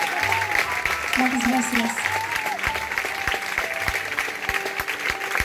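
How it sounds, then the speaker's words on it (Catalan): Loud, sustained applause from a concert audience fills the space while a voice speaks briefly over it. "un aplaudiment tan fort, sisplau."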